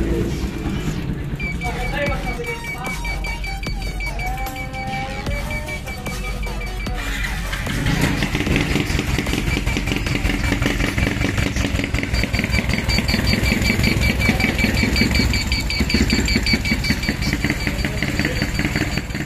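A motorcycle with a stock exhaust pipe, rigged with a DIY flasher relay mod, idles with a rapid string of sharp backfire pops. The engine grows louder and more continuous after about eight seconds, and someone talks over it early on.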